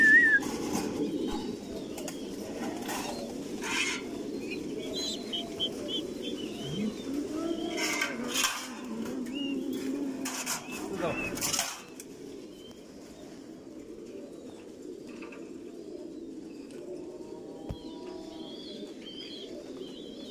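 Racing pigeons at a large pigeon farm coo in soft, repeated rolling calls, with occasional chirps and bursts of wing flapping, moderately near and fairly quiet, with no talking.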